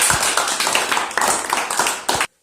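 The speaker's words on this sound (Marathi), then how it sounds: "जोरात टाळ्या वाजायच्या" Students clapping loudly together in a classroom, a burst of brisk, uneven hand claps for about two seconds that stops abruptly, with a faint voice underneath.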